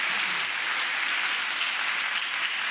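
A church congregation at a Sunday morning Advent Mass applauds Father Francky. Dense, sustained clapping from many people in a reverberant space, fairly loud and steady for the whole moment, with no speech over it.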